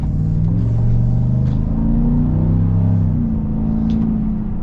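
A Chevy Trail Boss V8 pulling under acceleration, a deep steady engine drone rising and shifting in pitch from inside the cabin, loud and unbroken.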